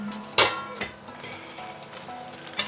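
Flat rice noodles stir-fry in a smoking wok with a continuous crackling sizzle, punctuated by a few sharp tossing scrapes and clatters, close and fairly quiet, with no talk.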